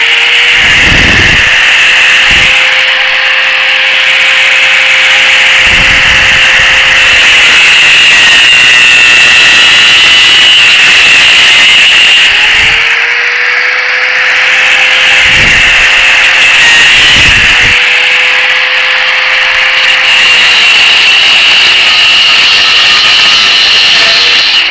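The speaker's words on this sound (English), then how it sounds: "These are the coolest things, these little cutoff wheels on your grinder." A small cutoff wheel on an angle grinder cuts metal in a workshop, giving a loud, steady high-pitched whine that runs throughout, with the motor pitch dipping and recovering a few times as the wheel bites.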